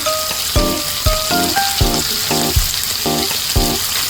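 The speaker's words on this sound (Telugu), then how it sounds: "పచ్చిమిరకాయలు వేసుకుందాం వేసి ఇవి బాగా వేగాలి" Green chillies fry in a pan for gongura mutton, a steady broadband sizzle running under loud rhythmic music with repeating tonal beats.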